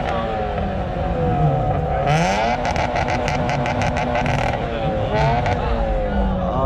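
A Ferrari at an auto show in Leipzig drives past with a loud engine note that rises and falls in pitch as it revs, accompanied by crackling bursts from the exhaust.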